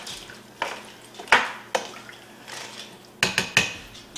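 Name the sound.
stirring a mixture in a bowl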